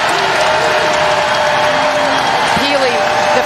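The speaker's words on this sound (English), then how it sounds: "Crowd is up." A basketball arena crowd at an NCAA women's tournament game between Gonzaga and Utah cheers and claps in a loud, continuous roar, with a commentator's voice and sneaker squeaks cutting through the noise.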